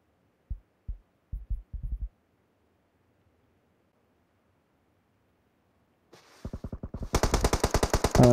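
Rapid automatic gunfire in an esports shooter match: a few scattered shots early, silence, then a fast rhythmic burst of shots that grows louder and sharper toward the end.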